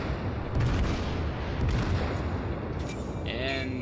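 Kongo battleship main guns firing in World of Warships, a heavy, dense booming roar that rumbles steadily throughout with no clear gaps, loud and close.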